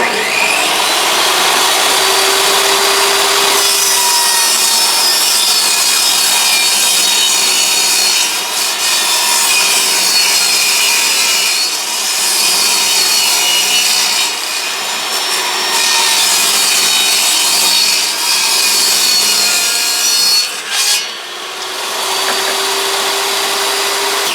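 Hand saw cutting across a wooden board to make a shelf for a vintage camper, loud close rasping strokes in a steady back-and-forth rhythm with brief pauses, no talking.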